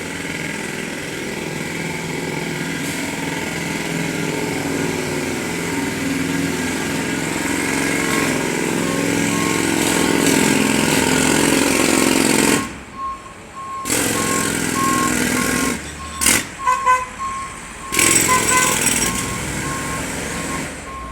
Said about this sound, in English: Noisy street.